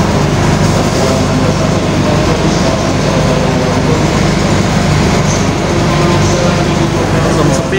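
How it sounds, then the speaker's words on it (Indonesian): A Dharmawangsa passenger train runs into Surabaya Gubeng station, recorded from on board as a loud, continuous rumble and roar with faint wheel clatter throughout. "Ini dia perjalanan saya bersama kereta api Dharma Wangsa dari Surabaya Pasar Turi hingga ke Jakarta"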